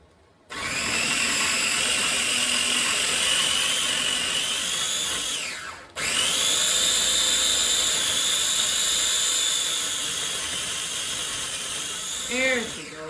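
A food processor whizzes ingredients for one-pot beefaroni in two long, loud, steady whirring runs split by a brief pause, with a voice briefly audible near the end.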